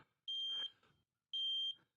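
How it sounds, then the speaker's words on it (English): A Harbor Freight metal detector switched on, giving two clear, sustained high-pitched electronic beeps about a second apart, with faint handling noise between them. "this is a Harbor Freight metal detector. Turn it on, it's going to beep like that"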